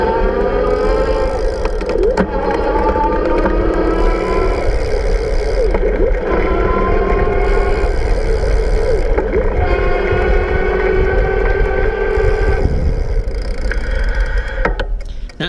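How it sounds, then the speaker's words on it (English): An iGO Electric Elite e-bike motor runs at its highest pedal assist setting, a steady electric whine with rising and falling harmonic tones over constant road and wind rumble. "I'm going to be in pedal assist level 8, the highest, so that you're going to be able to hear the motor really clearly"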